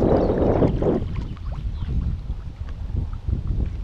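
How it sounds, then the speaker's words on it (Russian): A headwind rushes and buffets the microphone in low, gusty roars, loudest at the start, over the rumble of a boat on the Osuga–Tvertsa rivers. "У нас опять встречный ветер, достаточно такой свеженький."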